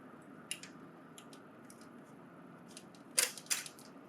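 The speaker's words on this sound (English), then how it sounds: "Remove the roller assembly." An ADF roller assembly is pulled out of a Lexmark MX930-series printer, giving a few scattered light plastic clicks over quiet room hum. Two sharper, louder snaps come close together near the end.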